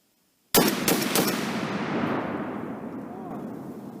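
A Barrett M82A1 .50 BMG anti-materiel rifle fired outdoors: a sudden, very loud blast followed quickly by a couple more shots, then a long rolling echo that fades over several seconds.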